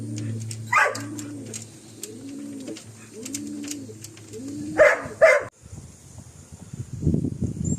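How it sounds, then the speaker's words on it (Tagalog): Homing pigeons returning to their loft after a short toss give a steady run of soft, rhythmic coos close by, broken by a couple of sharper louder bursts before rustling noise takes over. "Ayan na nga ang ating mga ibon."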